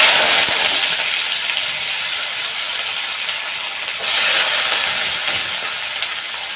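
Onion and garlic fry in a hot pan with a loud, steady hiss and sizzle that swells suddenly partway through, heard close with no voices.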